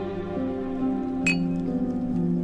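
Glasses clinking in a toast among women in a Chinese palace drama, one bright, brief clink at close range over a sustained musical score.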